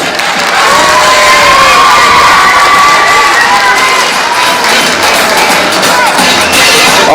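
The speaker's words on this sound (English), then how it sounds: "Give a round of applause for them." An audience at a Trash to Treasure Show in 2025 cheers, whoops and applauds loudly and continuously, with children's shouts mixed into the crowd noise.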